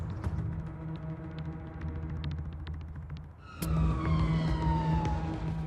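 An ambulance siren wails over a steady engine rumble, its sweeping tone sliding downward and growing louder after a few seconds as the ambulance approaches on an emergency call.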